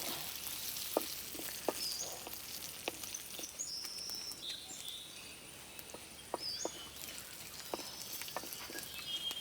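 Dried red chilies fry in oil for a Kerala-style tempering, a faint, soft sizzle with scattered small pops and clicks over a quiet background hiss.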